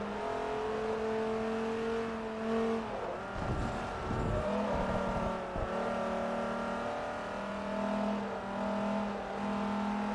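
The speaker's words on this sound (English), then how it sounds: "here we have a 600 horsepower Dodge Viper" A 600-horsepower Dodge Viper in the Forza Motorsport 3 racing game drones steadily with shifting revs, broken by a few heavy low thumps midway, with no talking over it.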